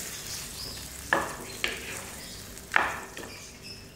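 Beaten yogurt being fried and stirred into mutton karahi over a low flame, a soft continuous sizzle with three sharp clinks of a spoon against the pot, close by and with no voices.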